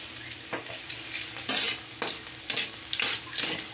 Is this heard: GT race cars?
no